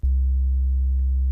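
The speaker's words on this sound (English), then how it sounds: "Just a low sine wave." A steady, low-pitched sine wave tone from a synthesizer oscillator in Ableton hums alone without variation, smooth and sustained for just over a second.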